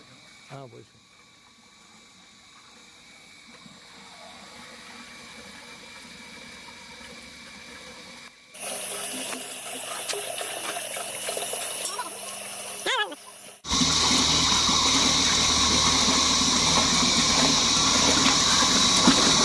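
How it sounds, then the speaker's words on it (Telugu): A motor stirs BD500 biodynamic preparation in water, running as a steady mechanical whir that grows louder in stages, with churning water and a rattling edge, and a voice talks over parts of it. "కానీ మేము దానికి బదులుగా మోటార్తో కలిపాము"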